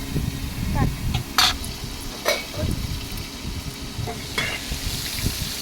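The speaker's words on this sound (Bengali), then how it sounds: "এক পিঠ ভাজা হয়ে গেছে, তো আর এক পিঠ ভেজে নিচ্ছি।" Pangas river fish fries in a pan with a continuous close sizzle, broken by stirring and scraping knocks and a few sharp metallic clicks as the pieces are turned.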